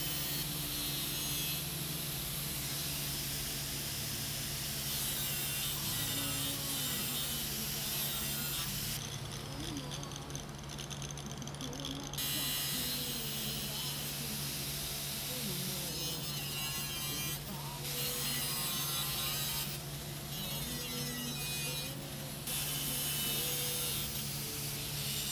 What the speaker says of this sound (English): then I can go cut it out with the angle grinder